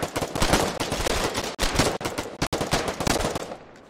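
Machine gun fire from gun nests in a video game: loud rapid automatic bursts rattling almost nonstop, with a couple of brief gaps and a fade at the end.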